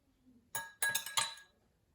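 Three quick clinks of a spoon against a glass during a kitchen water experiment, bright and close, following a brief faint murmur.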